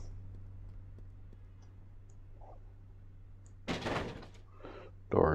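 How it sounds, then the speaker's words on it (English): A door opens in the emergency-services game Flashing Lights, with a burst of clicking and sliding noise near the end after a quiet stretch with a low steady hum. "Door is now open."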